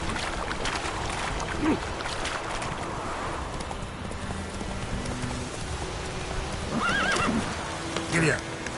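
A horse in The Witcher 3 whinnies twice over steady rain and hoofbeats, the neighs short and mid-distance against a constant wash of background noise.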